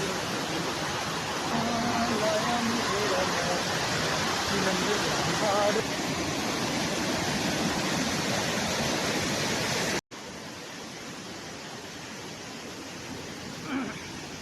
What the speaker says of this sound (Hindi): तो हम पहुंच गए हैं बहुत ही खूबसूरत झरने के पास